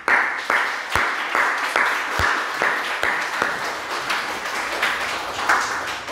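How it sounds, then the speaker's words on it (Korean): A church congregation applauds its worship team, giving steady mid-loud clapping with a few sharp, distinct claps standing out near the front. "오늘 우리 찬양팀을 위해서 우리 격려의 박수 한번 합니다"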